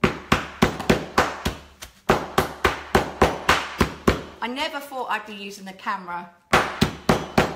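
A hammer smashes gingerbread ingredients with a rapid run of loud, sharp, evenly spaced blows. The pounding pauses while a person talks, then resumes with a few final hard strikes.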